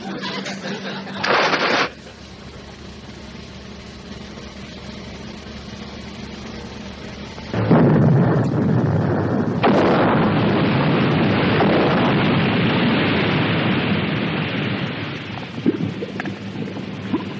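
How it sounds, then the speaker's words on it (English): Depth charges explode underwater in a wartime naval comedy scene, first as a brief burst and then as long rumbling roars and a sustained, loud, wash-like blast that fills the scene. "Fire the charges!"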